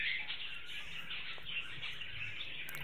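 Budgie chicks and hens in a breeding colony chirp and chatter in a dense, steady high twitter, faint and continuous with no voices.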